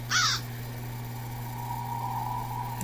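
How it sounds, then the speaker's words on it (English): A single loud crow-like caw from a bird in the video game Daymare Town, near and brief, fading into a steady low hum with a faint background tone. "Yeah, because I keep finding these birds."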